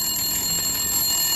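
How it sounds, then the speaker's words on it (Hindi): A telephone bell rings as a sound effect, loud and continuous with a bright, metallic tone for its whole short length. "टेलीफोन की घंटी बजी तो उसके कानों तक उसकी आवाज न पहुंची।"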